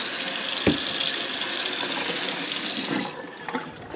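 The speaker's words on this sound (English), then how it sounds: "So we'll pour the water in." Water pours steadily from a tap into a pot for cooking rice, a close, continuous rushing hiss that stops abruptly near the end, followed by a few light clinks.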